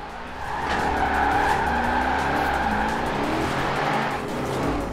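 BMW set up for drifting in the racing game Forza Horizon 4, tires squealing in a long continuous screech over a revving engine, sustained for several seconds with slight wavering as the slide continues.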